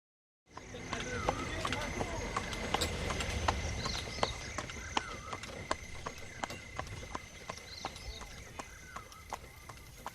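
Horse hooves from a horse and buggy clip-clop in a steady, even rhythm of sharp knocks, moderately close, continuing throughout with a low background rumble and what sounds like a voice talking faintly underneath.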